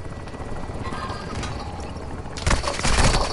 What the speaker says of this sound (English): Oh shit, this fucking helicopter.